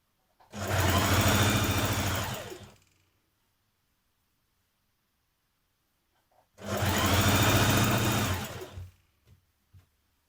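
A sewing machine stitches a trouser seam in two loud, close bursts of about two seconds each, separated by several seconds of near silence, with faint handling clicks at the end.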